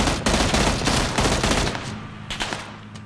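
Rapid bursts of gunfire in the battle royale game PUBG, loud, dense, overlapping shots for the first half, then thinning to scattered, slightly more distant cracks with a low engine-like hum underneath.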